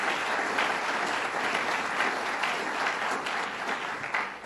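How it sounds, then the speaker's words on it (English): An audience applauds a university president at a local event with Governor Cuomo, dense continuous clapping from many hands, loud and steady, tapering slightly at the end. "And let's give him a round of applause for all his hard work."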